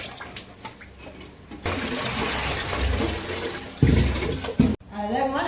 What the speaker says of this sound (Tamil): அதுக்காக தான் எல்லாத்தையுமே சுத்தமா கழுவி வச்சிடலாம்ப்பா.